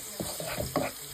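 Biryani being stirred with salt in a pot, a few soft scraping stirs over a low sizzle, close and brief.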